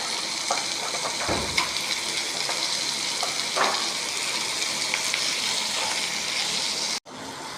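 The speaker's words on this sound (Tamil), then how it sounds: "கல் உப்பு போட்டு நல்லா வதக்கிடலாம்." Tomatoes with rock salt sauté in a pan, a steady close hiss with scattered stirring scrapes and one thud, cut short by a brief break near the end.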